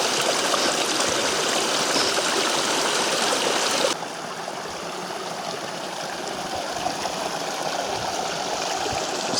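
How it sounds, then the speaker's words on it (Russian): A mountain stream fed by a small snowfield on a slope rushes steadily nearby, a loud continuous broadband gush of flowing water that drops slightly in level partway through and carries on without voices. "Источником воды для этого ручья служит небольшой снежник на склоне."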